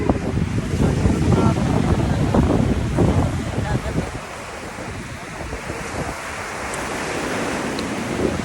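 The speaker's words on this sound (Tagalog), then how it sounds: "Grabe yung alon, no?" Strong surf pounds a beach as heavy wind buffets the microphone, a loud continuous roar of breaking waves that eases slightly midway before swelling again.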